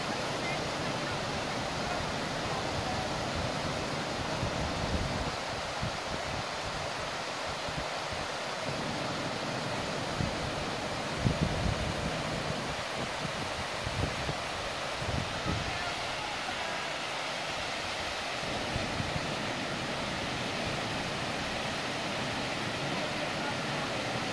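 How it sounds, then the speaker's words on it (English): A big waterfall in the Mourne Mountains pours with a constant, dense roar that stays steady throughout. "And a big waterfall coming from all the way up there."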